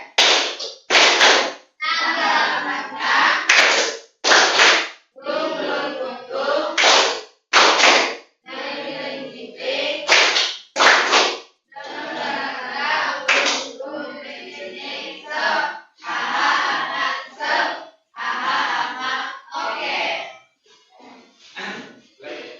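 Classroom students performing a rhythmic clapping routine, with sharp unison claps in short patterned bursts alternating with a teacher's voice and group chanting, close and crisp.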